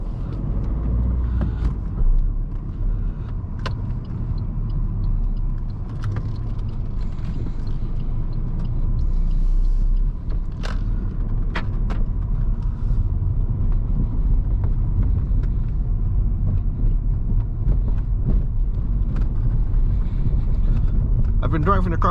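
An Alfa Romeo Mito driving at night, a steady low engine and road rumble with wind noise running continuously throughout, with occasional faint clicks and someone speaking now and then over it.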